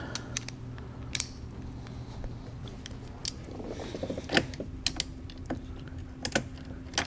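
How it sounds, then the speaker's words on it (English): An 11 millimeter socket wrench works on the battery ground cable of a Porsche 911 991, with faint scattered ratchet clicks and small metallic taps over a low background hum, close and quiet. "Now we're going to go back to our 11 millimeter socket and take the ground off."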